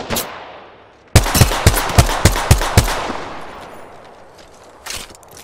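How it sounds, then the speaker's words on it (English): Enemy gunfire in an Xbox video game: a rapid burst of about seven loud, close shots in quick rhythm, fading into a decaying echo, followed by a fainter shot near the end. "They're shooting at me."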